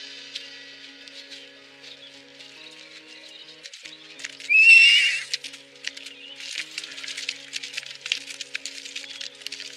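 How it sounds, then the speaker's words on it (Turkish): Horses in a historical drama camp scene whinny once loudly near the middle, with scattered hoof clops and clatter around it over a low, steady background. "Atlar!"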